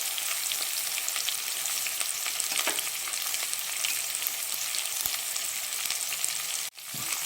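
Onion, green chili, curry leaves and turmeric fry in a pan for masala mandakki, a steady close sizzle with faint scraping stirs, cut off briefly near the end.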